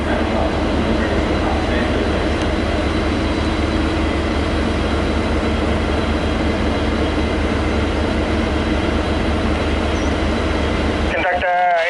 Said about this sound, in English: Here goes local hauled train